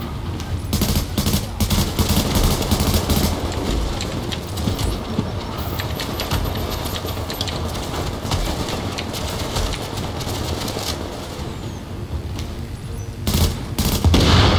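Automated turrets at a refugee camp in The Division fire in rapid, sustained bursts, a near continuous rattle of gunfire with sharper volleys at the start and end.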